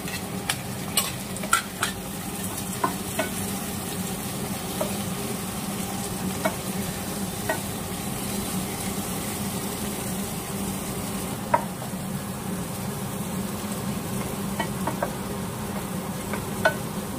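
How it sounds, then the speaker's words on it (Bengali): Cardamom and tomatoes fry in a pan with a steady, even sizzle throughout. Occasional light ticks and scrapes from a spoon sound close by, with no talking. "এটা একটুখানি ভাজা হবে, দুটো এলাচ, টমেটো সব দিয়ে"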